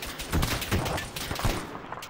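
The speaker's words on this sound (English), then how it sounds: "Get the machine guns up front and put suppressing fire out." Machine guns laying down suppressing fire, heard as a continuous, dense roar of rapid overlapping bursts, loud and harsh throughout with no pause.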